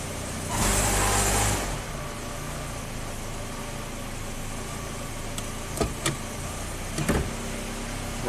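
Kia engine idling steadily in gear, a low continuous hum with a brief louder rise near the start and a few faint clicks and knocks toward the end, no talking.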